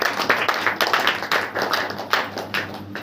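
Congregation clapping hands together at a Hindi church prayer meeting, a rhythmic pattern of sharp claps at a steady beat, close and fairly loud, with no talk over it.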